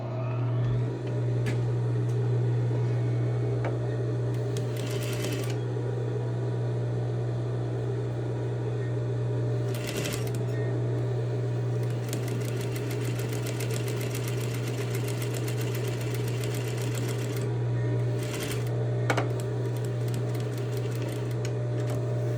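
A sewing machine stitches a seam in muslin with a steady, close, whirring hum that runs almost unbroken, with brief slowdowns between passes.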